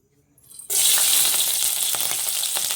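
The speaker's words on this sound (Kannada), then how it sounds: "ಅದೇ ಬಾಣಲಿಗೆ ಇವಾಗ 1 ಸ್ಪೂನ್ ಎಣ್ಣೆ ಹಾಕಿದ್ದೀನಿ." Oil sizzling loudly in a frying pan while making gobi Manchurian, a steady hissing fry that bursts in abruptly after a moment of near silence and holds close and strong.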